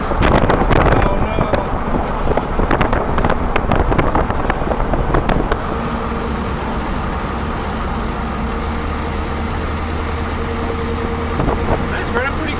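A 1957 Oldsmobile Rocket 88 drives on the road, its engine a steady low rumble under strong wind buffeting, with sharp clicks and thumps early on and people talking over it.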